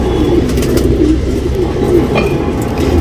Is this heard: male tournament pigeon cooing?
yes